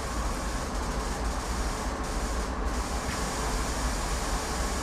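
The air brakes on a CSX heavy haul freight train in Train Sim World release with a steady, broad hissing rush, a constant airy noise with a low rumble beneath that holds without a break.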